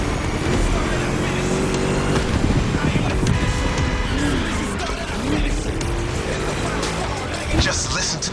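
A V8 race car in The Crew Motorfest roars through a lap with rising and falling revs and tire squeal, a voice talking over the engine throughout.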